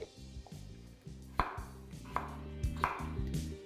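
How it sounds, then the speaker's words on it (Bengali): Knife chopping potatoes into small pieces on a board for boiling, a few crisp, separate cuts spaced irregularly, close and fairly quiet, with no talk. "আলুগুলো আমি এখানে একটু ছোট সাইজেরই কেটে নিচ্ছি, যাতে তাড়াতাড়ি বয়েল হয়ে যায়।"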